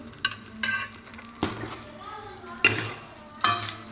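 Tomato paste and salt being stirred in a cooking pan for a cauliflower dish: a few separate spoon scrapes and clinks against the pan over a soft sizzle, close and moderately loud.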